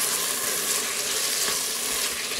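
Pilaf with its seasonings being stirred in a multicooker bowl, a steady broadband hiss and soft scraping that holds close and even throughout, with no voices.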